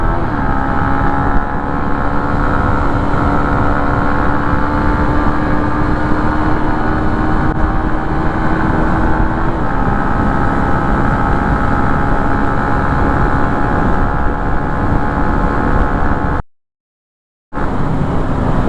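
Yamaha Sniper 150 fitted with an aftermarket EASTAR SPEED plug-and-play ECU, its engine held high against the rev limiter in a steady, loud droning whine with wind rush, broken by a brief cut near the end.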